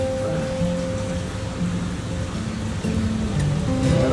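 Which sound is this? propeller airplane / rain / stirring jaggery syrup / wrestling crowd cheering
rain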